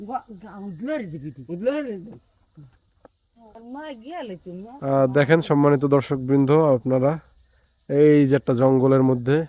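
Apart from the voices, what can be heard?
crickets chirping in a forest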